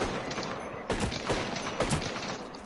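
Video game gunfire during a standing-still headshot aim drill: a few quick shots with mechanical clicks and rattles over continuous game background noise.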